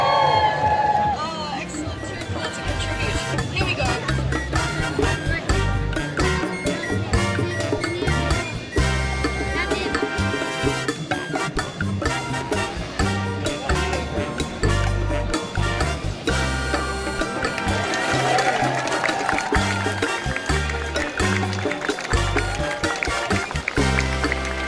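A festival crowd at an Edinburgh Fringe contortionist show cheers, whoops and claps loudly and without a break, a dense wall of close, continuous noise with music running underneath.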